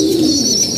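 Pigeons coo close by in a soft, steady, continuous murmur of overlapping low calls, with no voices.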